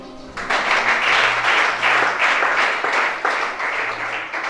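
A church congregation at a deliverance service applauds for Jesus, sustained dense clapping across the whole stretch, loud and close with faint voices mixed in.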